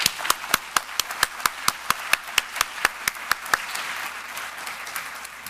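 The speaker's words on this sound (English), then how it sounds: "I'm hoping that you will join me in applause for our panelists." Audience applause for the panelists at a summit panel: sharp, distinct claps from a nearby pair of hands stand out over a wash of general clapping, which thins and fades toward the end.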